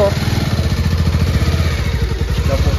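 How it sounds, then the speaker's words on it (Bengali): A motorcycle engine chugs nearby with a steady low rhythmic putter, loud and continuous throughout. "কেমন লাগলো বাইকে চেপে রুষা"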